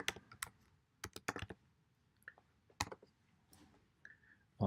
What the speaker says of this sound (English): So I'm typing in now ShareLatex.